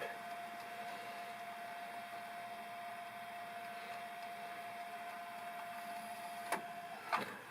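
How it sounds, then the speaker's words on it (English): A Sony RDR-VX555 DVD VCR combo rewinds a tape with a quiet, steady whirring hum and a constant tone, ending in two brief clicks near the end. "let's go into the next step to rewind the rest of the tape"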